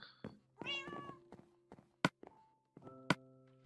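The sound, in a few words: cat meowing in the video game Minecraft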